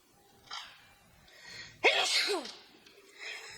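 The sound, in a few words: sneeze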